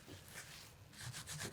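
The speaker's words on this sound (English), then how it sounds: "You're going to rub each side of the heart approximately 5 minutes" Hands rubbing a wet felt heart during wet felting: soft, steady rhythmic rubbing and swishing strokes, close and quiet, with no talk.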